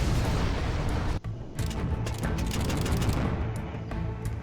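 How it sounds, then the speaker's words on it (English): Carpet bombing in a real-time strategy game, a dense, continuous rumble of overlapping explosions and booms that rolls on without pause and holds loud throughout. "STM was able to do a good carpet bomb on Neo"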